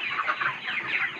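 Chickens about 35 days old cluck and chatter close by on a poultry farm, a steady busy flock sound with overlapping calls and no talking.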